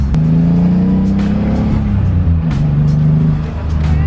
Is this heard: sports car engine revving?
yes